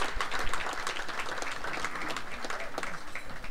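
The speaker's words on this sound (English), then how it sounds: "Give them a round of applause for doing a wonderful job," Audience applause fills a hall at a Hall of Fame induction gala, a steady dense clapping that holds at even strength throughout with no speech over it.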